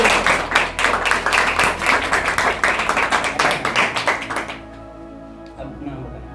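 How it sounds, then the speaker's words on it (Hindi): A studio audience on a radio quiz program claps in a rapid, steady burst of hand claps that stops abruptly, leaving quieter room sound and faint voices. "तालियां होंगी पहले"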